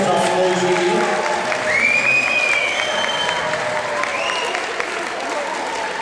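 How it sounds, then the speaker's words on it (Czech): Crowd at a school ball in Šaratice applauds to welcome ninth-grade students, sustained loud clapping with some cheers and voices mixed in, tapering a little toward the end. "myslím, že bychom měli žáky devátých tří přivítat obrovským potleskem"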